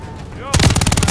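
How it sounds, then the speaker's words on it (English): Enemy gunfire in Call of Duty: Modern Warfare 3, a sudden loud burst of rapid automatic fire breaking in after a quieter moment and continuing in a fast, close rattle. "There's enemy fire!"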